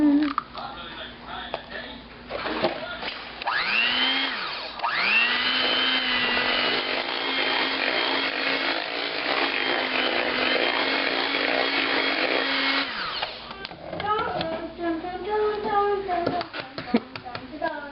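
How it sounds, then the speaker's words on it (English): A handheld electric mixer whirs steadily for several seconds while beating cinnamon roll cheesecake batter, starting and stopping, with people talking before and after. "that's why I'm using the hand mixer with this"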